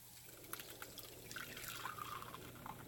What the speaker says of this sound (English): I'm just going to strain it in this bowl right here.